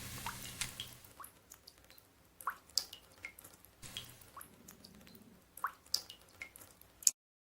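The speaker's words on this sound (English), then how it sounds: "The water's dripping." Water drips in a quiet room, a series of separate plinks and splashes at an uneven pace that stop abruptly.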